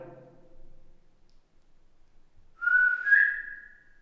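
People whistling inside an old Irish courthouse, a single clear rising whistle that rings out after a quiet pause, with a brief low murmur of voices before it.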